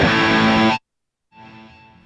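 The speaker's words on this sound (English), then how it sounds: "you'll still hear the reverb and delay" Electric guitar run through reverb and delay with a volume pedal: a loud, sustained chord cuts off abruptly into near silence, then a quieter, washy tail of the same sound swells back in and hangs on.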